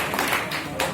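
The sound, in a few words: audience clapping loudly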